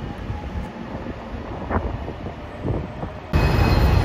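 A yellow JR Shikoku Anpanman train, the limited express Nanpu bound for Okayama, rumbles past with rolling wheel and carriage noise under gusty wind buffeting the microphone, surging louder near the end.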